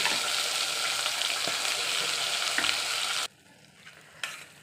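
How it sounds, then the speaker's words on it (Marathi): Ground onion-garlic masala with turmeric sizzles in oil on low heat, a steady crackling fry with occasional stirring taps that cuts off abruptly near the end, leaving faint scattered clicks. "मस्त असा परतू द्यायचा मसाला चांगला तेल सुटेपर्यंत"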